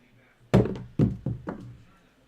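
Dice thrown onto a craps table on the come-out roll: four hard, close knocks in quick succession as the dice hit and bounce, then a quick fade to quiet.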